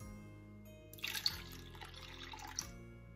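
Milk pouring into whisked eggs and sugar for pancake batter, a soft liquid stream starting after a quiet moment and running for about two seconds, close and gentle.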